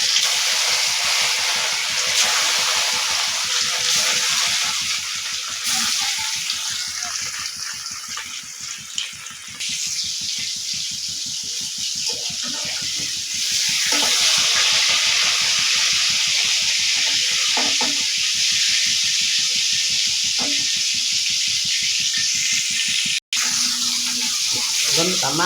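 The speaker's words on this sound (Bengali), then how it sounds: "মাছগুলি আমার ভাজা হয়ে গেছে" Fish frying in hot oil gives a steady, loud, close hiss and crackle that lasts throughout, rising and falling slightly in intensity, with one brief sharp click near the end.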